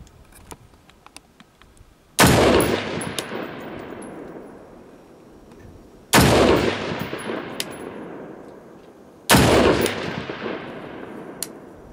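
Three loud, sharp rifle shots from an Ensio Firearms KAR-21 multicalibre rifle fired prone outdoors, spaced about four seconds apart, each with a long echoing decay.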